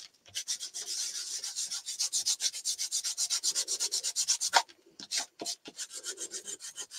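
Steady rasping and rubbing scrapes against a surface being worn down and distressed, close and fairly quiet, in a fast even rhythm that pauses briefly before a few final strokes.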